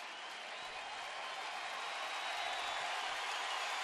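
Close to 30,000 fans roar at a night baseball game between Chicago and Cleveland, a steady wall of crowd noise that swells slightly, with no clear individual voices.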